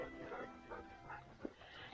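A dog in a woodland inn setting in Tiradentes, Minas Gerais, gives faint whimpers and a few soft yips, with a sharper bark-like burst near the end, over quiet background murmur.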